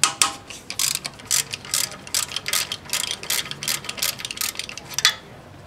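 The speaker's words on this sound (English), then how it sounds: "in order to loosen the power steering pump belt, we need to loosen this bolt" A ratchet wrench loosens a 14 mm bolt on the power steering pump of a Hyundai Elantra, giving a long run of quick, close metallic clicks in uneven bursts.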